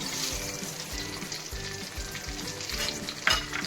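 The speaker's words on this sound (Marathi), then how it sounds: "मंद गॅसवरतीच गरम करून घेणार आहोत रवा." Semolina roasting in ghee over a low flame for a sweet shira, a soft steady frying hiss with rhythmic stirring scrapes roughly every half second and a sharper clink near the end.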